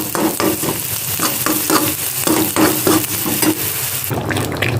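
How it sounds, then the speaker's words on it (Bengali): Yoghurt-marinated chicken for mustard chicken dropped into a hot pan and stirred, loud close sizzling with repeated rhythmic scraping strokes of the spatula, ending in a softer steady fry. "এইবারে ম্যারিনেট করে রাখা চিকেনটা কিন্তু আমি অ্যাড করে দেবো এটাতে।"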